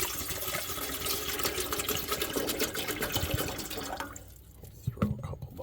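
Water poured into a camping coffee percolator, a steady close splashing and gurgling fill for several seconds that thins out near the end, with a couple of faint knocks.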